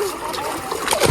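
Splashing and sloshing water as Blackie the dog is led down into it, with broadband watery bursts that grow louder toward the end.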